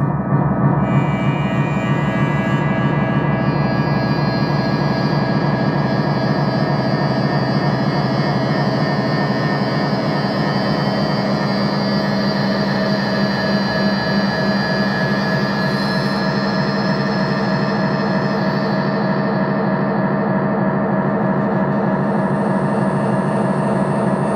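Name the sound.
delay pedal feedback looping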